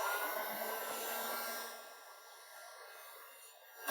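A heat gun blowing hot air across SMT02 Burnt Maroon vinyl wrap on a car hood, a steady hissing whoosh that eases a little partway through, close and alone.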